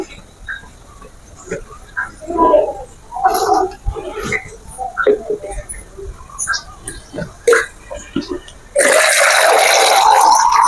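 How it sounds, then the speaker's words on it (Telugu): Water is poured into a cooking pot while making bagara rice and chicken curry, arriving as a loud, steady rushing pour near the end after a stretch of talk and kitchen clatter. "జస్ట్ నాకు గుర్తున్నంత వరకు వాటర్ పోస్తాను."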